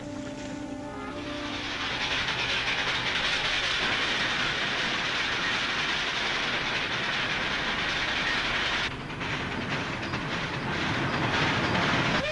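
A steam train rolling along the tracks, a broad steady roar with rhythmic clattering wheels that stays loud and close throughout, no voices over it.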